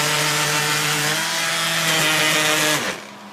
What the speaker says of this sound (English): Wiggle the sander and make this line here.